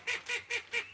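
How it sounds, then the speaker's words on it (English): A female duck gives four quick, evenly spaced nasal honking calls, close and moderately loud. "That's a female duck."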